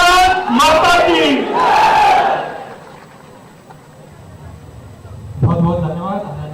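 A large crowd at a BJP political rally in Dabra, India, roars a loud chant together, then falls to a quieter murmur before a voice starts to speak.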